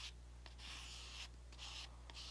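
A card spreads and scrapes gesso across a flat art surface in repeated rasping strokes, each lasting roughly half a second, over a steady low background hum, fairly quiet and close, with no talk.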